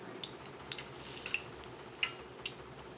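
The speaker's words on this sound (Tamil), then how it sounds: "அந்த முட்டையை ஒண்ணொண்ணா இதல தோச்சி எண்ணெயில போட்டு பொரிச்சு எடுத்துக்கலாம்" Batter-coated eggs deep-frying in hot oil for egg Manchurian, a soft, steady sizzle broken by small crackling pops, quiet and close with no talking.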